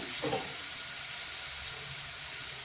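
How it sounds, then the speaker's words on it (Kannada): Chopped, washed leafy greens dropped into a hot pan for a North Karnataka greens stir-fry: a short burst of noise as they land, then a steady broadband sizzle continuing on its own. "ಇದಕ್ಕೆ ನಾನೀಗ ಡೈರೆಕ್ಟಾಗಿ ಸೊಪ್ಪನ್ನು ಹಾಕ್ತೀನಿ"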